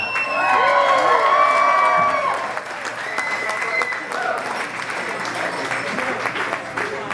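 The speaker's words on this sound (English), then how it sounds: "how about another big round of applause" A crowd claps and cheers at a family celebration, loud close applause with whoops that peaks early and then settles into steadier clapping while voices carry over it.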